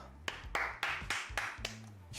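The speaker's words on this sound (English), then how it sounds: "My man applauding himself" A man claps for himself, about seven sharp hand claps in an uneven rhythm, close and fairly quiet over low background music.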